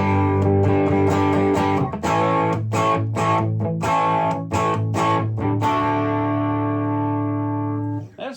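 A distorted electric guitar on the single-coil bridge pickup runs through a Rainger FX Minibar pedal, with loud strummed chords and choppy phrases that end in a long ringing chord fading out.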